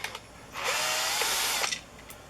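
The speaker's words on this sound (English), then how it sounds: "I use a drill." A power drill whirs for about a second while backing screws out of a Shoreline power cord plug, close and steady, with small clicks before and after.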